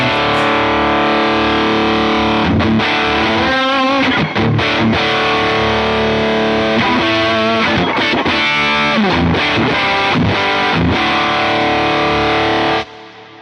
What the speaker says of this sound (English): It's like a fuzz, almost like a spitty gated fuzz